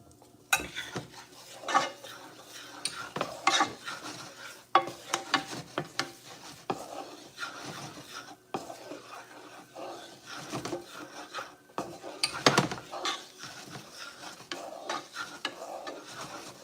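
Onions cook in a pan on a home stovetop for Russian dumplings, with a steady soft sizzle broken by scattered utensil scrapes and knocks. The sound is close and moderate in level, with no talk.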